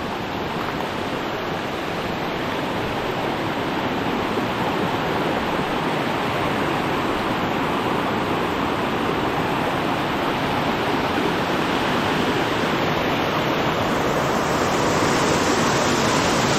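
A large river rushes in full spate, a steady, loud, broadband roar of churning water that fills the whole stretch without pause.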